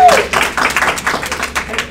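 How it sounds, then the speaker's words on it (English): Brief burst of audience clapping for a guest at a seminar, a short patter of hands lasting under two seconds with some voice mixed in. "Give him a round of applause."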